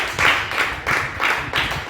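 A church congregation clapping in praise together in a steady rhythmic beat, about five even bursts in under two seconds, loud and close with no voices.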